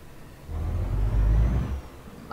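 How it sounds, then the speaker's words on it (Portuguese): A truck engine in Euro Truck Simulator 2, on a reservoir-tank delivery, swells into a deep, loud rev lasting about a second before easing back to a low idle hum. "olha, sente o som do motor aí"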